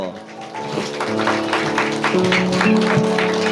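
Congregation clapping at a church family-invitation puppet-show joint worship service, a steady rhythmic patter of hands beneath a sustained melodic voice or music.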